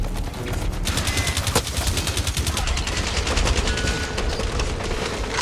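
Rapid automatic gunfire rattles nonstop in the video game Blacklight Retribution, loud and close, with a steady stream of shots and a few heavier impacts mixed in.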